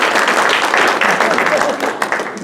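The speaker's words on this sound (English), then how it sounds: "How about a round of applause for Big Belly?" An audience at a dinner talk on Coalinga's night skies claps for Big Belly, a dense, steady applause filling the whole stretch before tapering slightly at the end.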